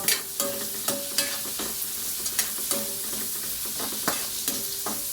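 Banana heart adobo sizzles in a pan while a utensil stirs it, with scraping strokes about every half second over a constant frying hiss, close and moderately loud, no voices.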